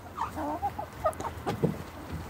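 Ameraucana hens cluck softly and repeatedly at close range, a series of short, chattering calls at feeding time with no talking over them.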